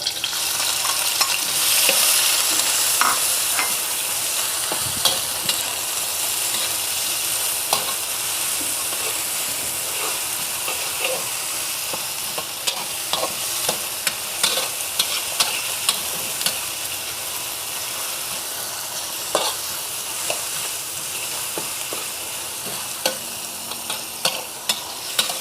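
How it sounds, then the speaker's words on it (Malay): Pounded spice paste with onions hits hot oil in a wok, a steady bright sizzle and crackle running throughout, with occasional sharp clicks of a utensil stirring and scraping the pan, close and fairly loud, no talking. "Jom kita masukkan bahan-bahan yang sudah saya tumbuk tadi."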